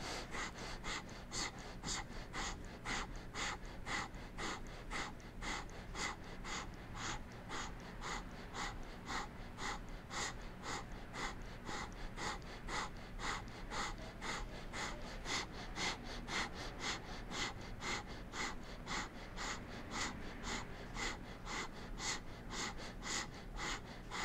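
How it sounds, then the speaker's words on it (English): Breath of fire, a rapid yoga breathing exercise: quick, even, forceful nasal exhales pulse in a steady fast rhythm for over twenty seconds, close and fairly quiet. "And begin your breath of fire."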